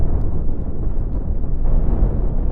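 Cannon fire and explosions from a space fleet battle in the game Cosmoteer, a continuous loud, dense rumble of blasts with no clear gaps and no talk.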